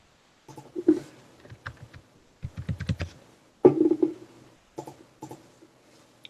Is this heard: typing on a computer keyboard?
yes